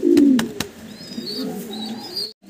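Pigeons at a farm coo in low, rolling calls, with a few sharp taps early on and faint chirps above, close by and alone without any voices.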